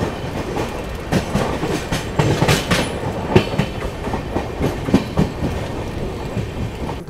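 The Magadh Express rolls along the rails near Pandit Deen Dayal Upadhyaya junction, a loud continuous rumble with repeated clickety-clack wheel beats and rattling carriages throughout.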